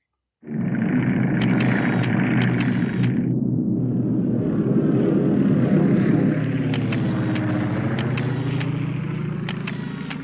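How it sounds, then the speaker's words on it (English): Propeller warplanes in the War in the Pacific game, American trainers such as Warhawks, Mohawks and Wildcats, drone steadily overhead in a loud continuous engine rumble with a few short clicking game effects. "So we have here some American training airplanes in the sky."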